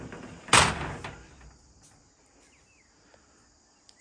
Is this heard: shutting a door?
yes